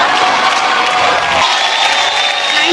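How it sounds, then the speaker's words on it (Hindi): Audience applause and cheering at the Star Guild Awards 2020 ceremony, a dense, steady wash of crowd clapping filling the hall for the whole stretch with no pauses. "इस टीम के लिए जोरदार तालियां होनी चाहिए।"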